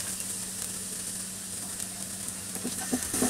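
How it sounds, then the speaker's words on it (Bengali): Chopped garlic frying in oil on high heat for a Chinese shrimp and broccoli dish, a steady close hiss of sizzling with occasional light stirring clicks and pops, no voices. "এটা দিয়ে একটু ভেজে নিব, রসুনটা হালকা একটু বাদামি হওয়া পর্যন্তই।"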